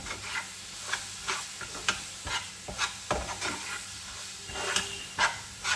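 Coconut and mango pulp ladoo mixture being stirred in a pan until it thickens into a firm ball, with soft, irregular scraping strokes and faint clicks over a quiet hiss.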